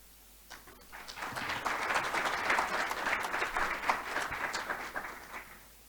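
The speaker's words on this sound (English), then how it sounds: "I think you can give another clap for her." Audience applause at an African evidence summit conference, a room of people clapping steadily for about five seconds, moderately distant, rising quickly and fading out at the end.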